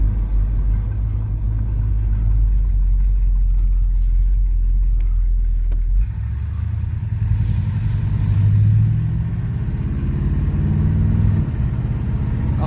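A Chevrolet Monte Carlo engine runs steadily after a cold start, a deep continuous rumble close by that shifts slightly in tone midway, with no talking.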